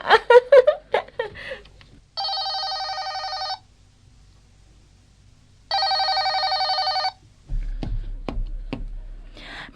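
In a Thai radio drama, a telephone rings twice with a long pause between the trilling electronic rings; voices and clattering come before and after.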